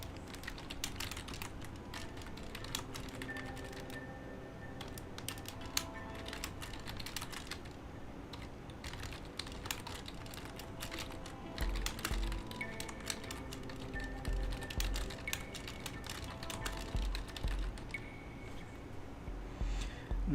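Rapid, steady typing of code on a computer keyboard for programming in Ruby, with dense clicking keystrokes close up throughout and no talking.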